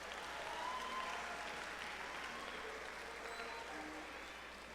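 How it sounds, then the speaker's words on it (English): A band concert audience applauds the graduating seniors at a high school spring concert, a steady wash of many hands clapping at moderate distance, evenly sustained throughout with a faint voice or two underneath. "One more round of applause for our 2019 seniors."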